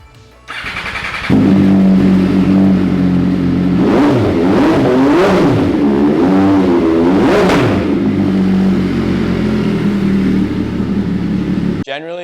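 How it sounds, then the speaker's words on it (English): An MV Agusta Dragster 800 motorcycle's three-cylinder engine starts and settles into a steady idle, with several sharp throttle blips revving it up and down before it cuts off. "Let me start this thing up"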